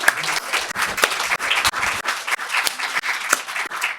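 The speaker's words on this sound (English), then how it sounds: "So a round of applause for our speakers." Audience at a mental health conference panel gives the speakers a round of applause: dense, continuous clapping from a crowd that holds steady for several seconds, close and fairly loud, with no talking.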